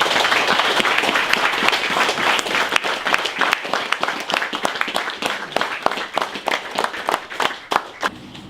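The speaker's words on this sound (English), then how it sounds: "And a huge round of applause, please, for Jean Mangan" Audience applause for Jean Mangan at a show just before best in show, dense clapping at first, then thinning into distinct individual claps toward the end, without speech.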